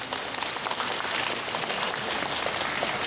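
Audience at a political speech in Pohang, South Korea, breaks into steady, dense applause of many hands clapping together, filling the short moment evenly with no voices standing out.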